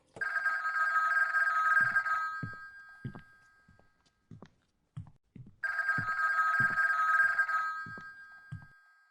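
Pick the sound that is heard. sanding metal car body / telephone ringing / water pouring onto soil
telephone ringing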